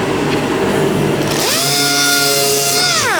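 A dual action sander on bare car body metal whines steadily, a broad gritty roar that rises in pitch midway as the motor spins up, running continuously and close by.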